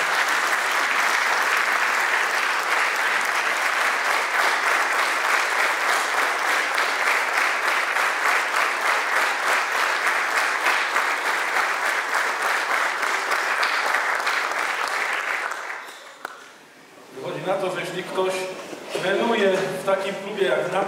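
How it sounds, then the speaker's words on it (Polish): Sustained applause fills a hall at a football association centenary jubilee ceremony, dense steady clapping for about fifteen seconds before fading out as a speaker resumes talking. "Wielkie brawa."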